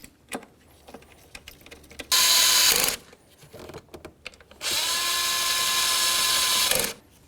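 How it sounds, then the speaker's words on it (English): A power ratchet snugs throttle body bolts on a 2006–2012 Ford Fusion, two loud whirring bursts, one short and one longer, between quieter clicks and handling noises at close range. "start in all 4 of your bolts, and then snug them up"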